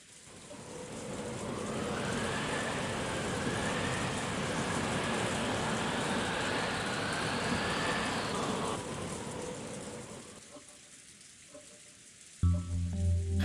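Wind and rain ambience from the Umineko When They Cry visual novel game: a steady, loud rushing downpour that swells and holds for several seconds, then fades away, with a brief knock near the end.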